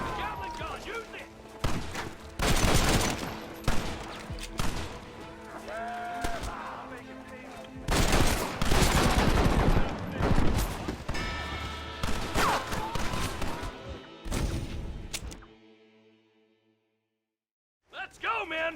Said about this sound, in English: Need more fire! Gatling gun, use it!